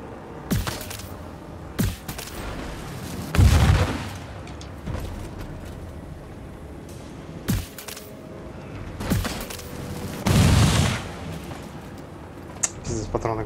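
Sniper rifle shots in the video game Immortal: Unchained, several sharp booming cracks spaced irregularly with a couple of heavier rumbling blasts between them.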